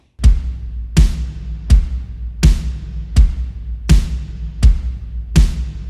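Eight evenly spaced snare drum hits, EQ-boosted around 155 Hz for body and 2200 Hz for brightness, each a sharp, loud crack with a short ringing tail, played alone.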